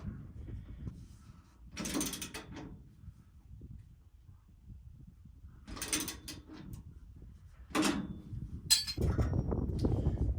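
A mud mixer's mechanism turned by hand gives a few separate bursts of clicking and grinding metal, each about a second long, with quiet low rumble between them and a steadier, louder rattle at the end.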